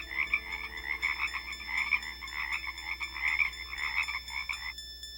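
A frog croaks in a steady rhythmic series of raspy calls during a scene in the 1980 horror film The Fog, holding a constant level over a faint electronic hum, then abruptly falls silent near the end.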